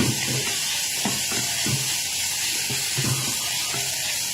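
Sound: stir-frying fried tofu tubes in a pan

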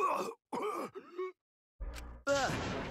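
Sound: character coughing and groaning in pain, from Danganronpa V3 video game

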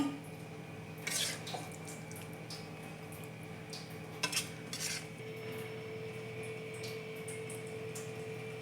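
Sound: chicken fry being transferred into a bowl

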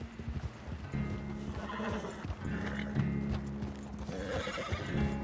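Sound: horse neighing and hooves, video game

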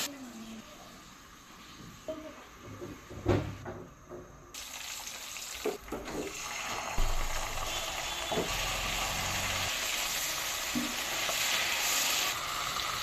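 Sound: fish frying in oil

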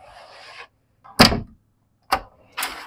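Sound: privacy door being moved

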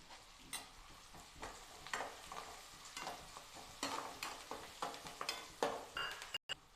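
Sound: curry leaves sizzling in tempering oil

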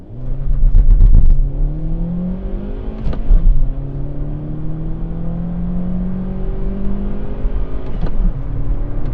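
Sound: four-cylinder car engine accelerating

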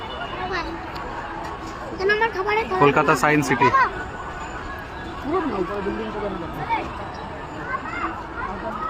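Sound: crowd chatter at Kolkata Science City

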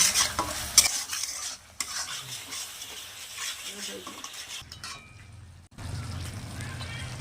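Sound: stir-frying soybean curry masala with salt

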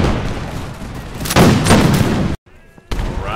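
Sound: musket volley fire in the video game Imperial Splendour

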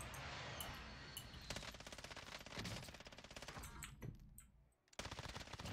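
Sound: FiNN LMG machine gun firing in video game Warzone

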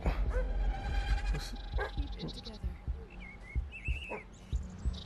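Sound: dog barking in VR game

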